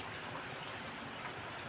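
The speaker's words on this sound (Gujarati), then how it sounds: "બપોરે 2 વાગ્યાનો વરસાદ શરૂ છે, હજી બંધ જ નથી થયો, ફૂલ શરૂ છે." Heavy rain falling steadily as a dense, even hiss with no breaks, fairly faint and distant, with no voices.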